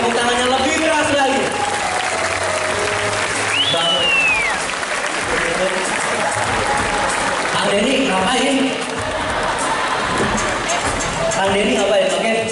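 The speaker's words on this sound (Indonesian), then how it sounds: "Tepuk tangannya lebih keras lagi." Audience clapping at a stage show in an amusement park, steady and fairly close, with voices and shouts and other busy crowd sounds mixed in throughout.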